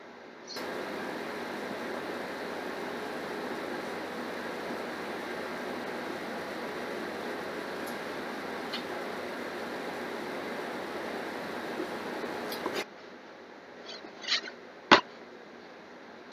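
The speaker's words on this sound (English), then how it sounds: "if you hear some roaring in the background, I've got a little space heater" A small space heater roars steadily in a room, a faint continuous broadband whoosh that runs for about thirteen seconds, then cuts off, leaving quiet with a few small clicks.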